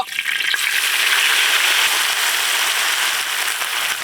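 Mint and fenugreek leaves fry in hot peanut oil for donne biryani masala, a loud, close, continuous crackling sizzle that holds steady throughout without any talking.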